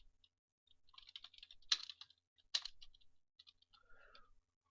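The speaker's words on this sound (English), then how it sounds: "I'll type in Windows 2000 user" Keys tapped on a computer keyboard while entering a user name, quiet irregular bursts of clicks with two sharper, louder strokes, heard close up with no talking.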